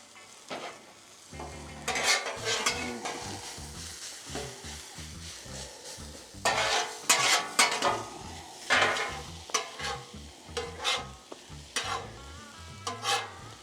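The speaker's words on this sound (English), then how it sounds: "fried onions are definitely frying up, looking good" Onions frying for smash burgers, sizzling on a hot griddle while a spatula scrapes and stirs them in repeated strokes, no talking.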